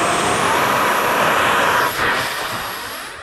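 A radio-controlled Batwing jet model is launched and flies off with a loud, steady high-pitched turbine whine that rises in pitch, then fades as it pulls away, with no talking.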